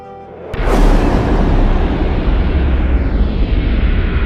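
Fire vortex explosion sound effect: a sudden loud boom bursts in and gives way to a sustained, roaring rumble that slowly fades.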